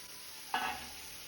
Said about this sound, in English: Then take a kadai and add 2 tablespoons of oil. Then add marinated veggies.